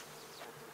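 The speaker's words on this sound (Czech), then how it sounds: "Máme tady třeba silný včelstvo." Honey bees buzzing at an open hive of a strong colony, a faint, steady hum heard up close for under a second, alone without speech.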